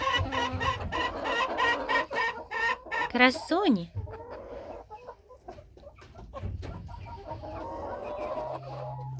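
Hens cluck and cackle close by in a busy, overlapping chorus, with a brief squawk and a single short spoken word partway through.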